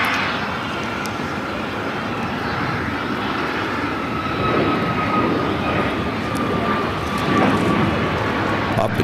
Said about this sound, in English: American 777-300ER now pushing back.